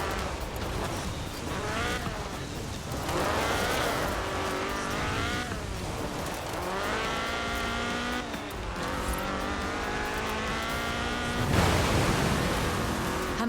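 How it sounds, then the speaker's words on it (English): A Ford Escort RS1800 rally car with a fuel-injected 1790cc Cosworth BDE engine, driven in Forza Horizon 4, revs loudly and continuously, its pitch climbing and dropping through repeated gear changes. "This was a car designed explicitly for rallying, with a powerful fuel-injected 1790cc Cosworth BDE engine."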